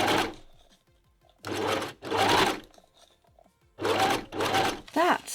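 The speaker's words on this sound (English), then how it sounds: "So I'm going to put one of these in and sew a reasonably simple bit" A sewing machine with a newly fitted needle stitching a simple test seam for a DIY dinosaur bag: several loud, short bursts of fast whirring separated by quiet pauses.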